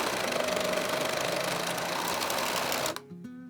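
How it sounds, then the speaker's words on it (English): A serger sewing two short seams on a sweater runs with a fast, loud mechanical chatter for about three seconds, then stops abruptly, leaving a quiet tail. "we will now sew this on my serger, just these two little seams."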